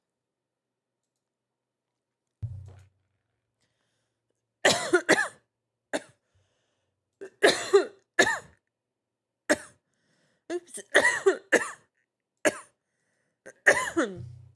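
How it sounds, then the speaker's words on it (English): Several short coughs and throat-clearing bursts come in scattered clusters, close up, against an otherwise quiet background, with a brief spoken word early on. "I didn't mean to like cough up a storm."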